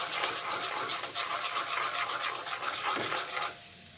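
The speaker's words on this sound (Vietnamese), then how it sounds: "lúc dầu mình còn nóng thì các bạn cứ quậy cho nó tan cái phần gia vị vô đây" Seasoning and fish sauce are stirred into hot oil in a pan with lemongrass and chilli for braised tofu. A close, continuous scratchy scraping with a quick rhythm plays alone and eases off just before the end.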